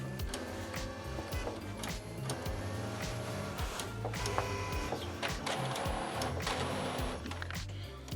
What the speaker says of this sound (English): That is the vacuum pump, pulling all excess gel out of the tubes so it can be flushed with ink.